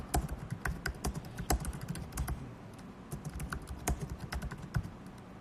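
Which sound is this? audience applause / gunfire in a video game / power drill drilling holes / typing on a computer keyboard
typing on a computer keyboard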